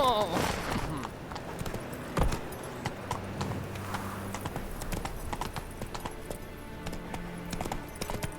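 Roach the horse's hooves clip-clop steadily in The Witcher 3, with a whinny and snort near the start, over ambient game sound and scattered sharp clatters; a voice speaks briefly.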